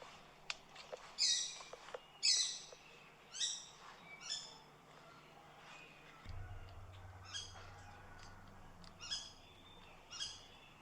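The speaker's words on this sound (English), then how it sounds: "bird watch comes from my good buddy Zach, who recorded some bird sounds while he was in Thailand." Repeated harsh bird calls recorded in Thailand ring out at intervals over a quiet outdoor background, with a low hum entering partway through.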